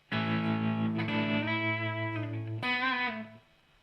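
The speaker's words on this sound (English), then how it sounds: "they've got a spring reverb" A sustained electric guitar chord through a Zoom G1Xon multi-effects pedal's spring reverb rings out, swells into a second chord with a splashy, springy reverb tail that fades away after a few seconds.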